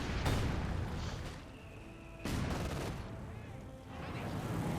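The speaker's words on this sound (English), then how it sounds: "Another mortar there for PappyoDaniel." Mortar blasts and scattered gunfire from a Company of Heroes 2 1v1 battle, with a steady wash of shots and a sharp impact near the start and another around the middle.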